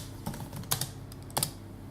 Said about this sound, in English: I can type it up.